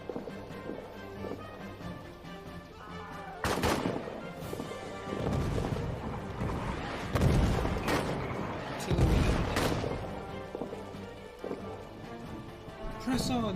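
In a trench warfare video game, an artillery barrage mixes with gunfire: heavy booms and sharp bursts land at intervals over a continuous rumbling battle din, with voices shouting between the blasts.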